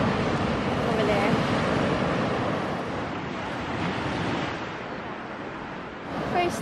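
Ocean waves wash onto a busy beach on a sunny day, a continuous loud surf rush mixed with wind buffeting the microphone, with faint voices blended into the roar.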